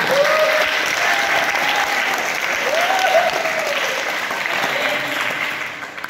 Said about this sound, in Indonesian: Ya, aplaus untuk kelompok kontra.